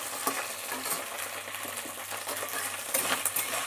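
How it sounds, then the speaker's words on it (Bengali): Okra frying in hot oil in a pan while being stirred, giving a steady dense crackle with scraping stir strokes and small clinks, close and continuous, with no voices. "এবার এটাকে ঢ্যাঁড়সটাকে একটুখানি ভাজা করে নেব"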